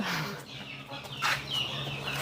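Chickens cluck and squawk nearby on a farm in short, overlapping calls, with one louder rising cry in the middle.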